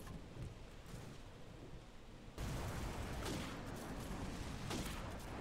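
A sniper rifle shot in the Modern Warfare shooter goes off as a sudden loud broadband blast, followed by sustained noisy gunfire texture and a few more sharp cracks, without talk.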